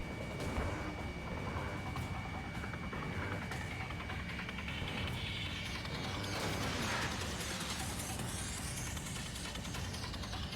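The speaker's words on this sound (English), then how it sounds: "Mage 2, missile launch." A missile launching in a flight combat game, a continuous loud roar of jet engines and whooshing thrust with mechanical rumble throughout.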